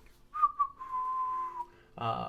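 A person whistles a simple tune alone, a few short rising notes followed by one long sustained tone, then a brief burst of other sound at the end.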